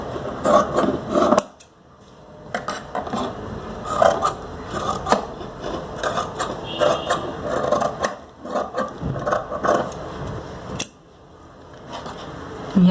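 Scissors snip through cloth while shaping a partywear neck design, a steady run of close, crisp cuts and rasping blade strokes with a brief pause partway through.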